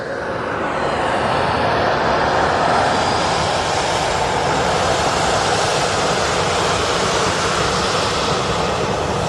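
A Boeing 787 Dreamliner climbs out after takeoff from Manchester Airport, its jet engines producing a loud, steady, broadband roar that holds throughout with no voices.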